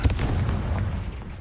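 A Confringo fire spell explodes in Hogwarts Legacy with a single loud, close boom that rumbles and fades over about a second.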